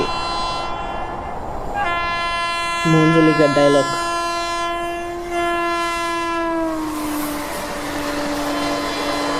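A train in a Free Fire 3D animation blasts a long, loud, sustained multi-tone horn over rumbling rail noise, with a short burst of a different tone in the middle; a voice speaks briefly.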